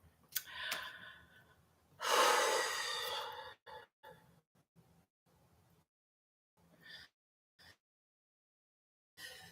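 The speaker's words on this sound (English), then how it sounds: "square breathing, square." Slow square-breathing exercise: a loud, drawn-out exhale or sigh, then several short, faint breaths and snorts separated by long silent pauses.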